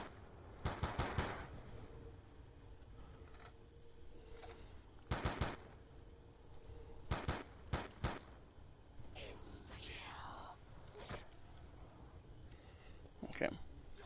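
Repeated bursts of M14 rifle fire in a zombies video game, in several loud, sharp clusters spread through the clip, with quieter game ambience in between.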